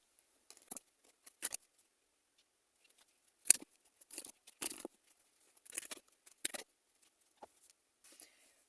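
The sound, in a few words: tarot cards being handled and shuffled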